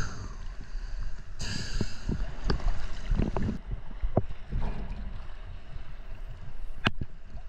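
A river's water rushes and splashes steadily nearby, with scattered knocks and clatters over the continuous flow.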